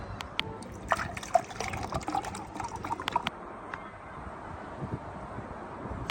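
Cold drinking water poured into a vessel in a Punjabi village home, a close trickling and splashing stream with drips that fades to quieter background noise near the end.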